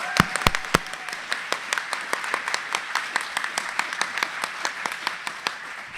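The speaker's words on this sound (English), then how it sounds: "Give Stephanie another round of applause." Audience applause at a live storytelling show fills the space, with dense, steady clapping throughout and a few sharp, close claps standing out near the start.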